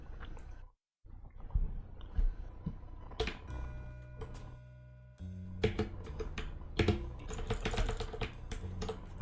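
A computer keyboard and mouse are typed and clicked rapidly during a game of A Hat in Time, with dense close clatter, a brief silent gap early and a steadier hum underneath.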